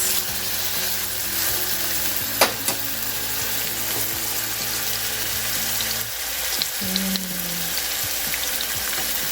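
Horseradish-crusted Chinook salmon fillets pan-fry in a skillet with a steady, close crackling sizzle throughout, broken by a few light clinks and a brief tonal squeak near the end.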